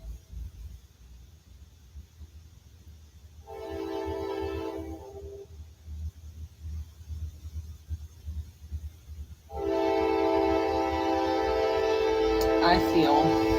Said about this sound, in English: when that train went off